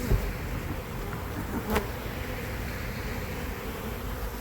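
A swarm of bees being shaken into a box makes a dense, continuous buzzing hum, close and steady, with a brief thump partway through and no voices.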